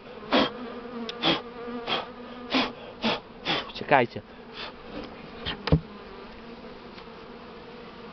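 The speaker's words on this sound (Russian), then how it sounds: "Все, пчелы пошли, покуда мы ходили за маткой туда-сюда." A dense honeybee swarm buzz hums steadily throughout, with a voice speaking briefly over it and a few sharp knocks and handling noises.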